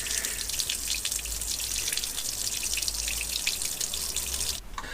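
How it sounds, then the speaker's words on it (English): Grey wastewater drains from an underslung tank on an Iveco Daily campervan onto a driveway, a steady close rushing splash of running water that continues evenly and then cuts off near the end. "So I can release the wastewater."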